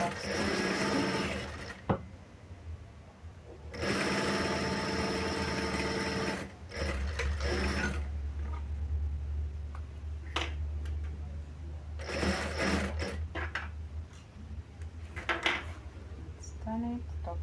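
A sewing machine stitches a sling bag, running in close, loud bursts with pauses between them and quieter clicks of handling in the gaps.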